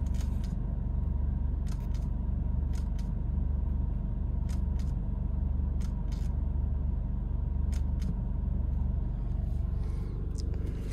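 A Mercedes engine idles with the transmission in drive: a steady low rumble runs throughout, broken by occasional sharp clicks and ticks.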